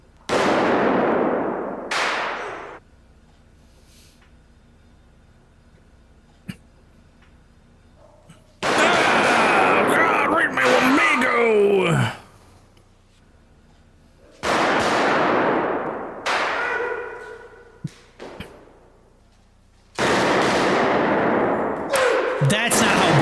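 Gunshots in the light-gun video game Who Shot Johnny Rock, played in loud broadband bursts of several seconds each, separated by quieter stretches where a voice talks.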